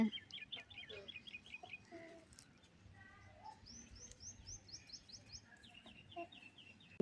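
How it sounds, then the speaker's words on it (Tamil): Chickens cluck softly at close range amid bright chirping birdsong, with scattered scratching noises in a quiet outdoor setting. "கோழி பாருங்கள், கிண்டி அப்படியே மேயுது கோழி"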